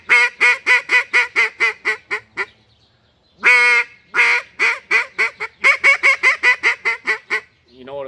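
A double reed duck call blows the comeback call: a rapid string of loud, close, evenly spaced quacks, a longer drawn note, then another fast burst of short quacks.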